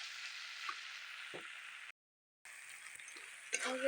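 Tomatoes fry in hot oil with salt and turmeric for chicken kosha, giving a steady, moderately loud sizzle with a few faint stirring knocks and a brief break midway.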